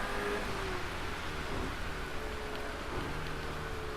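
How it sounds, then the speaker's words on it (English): Heavy rain pours down during a night race on a track in a driving video game, a steady dense hiss with faint low rumbles beneath, fairly quiet and continuous without voices. "it's raining like crazy as I hit a curve"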